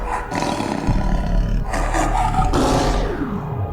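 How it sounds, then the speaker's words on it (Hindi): A cartoon tiger lets out a loud, sustained roar over a dense, rumbling soundtrack as it prowls into a village at dusk, the growl swelling and fading in waves across the whole stretch. "एक बाघ वहां से सीधे गांव में घुस आता है।"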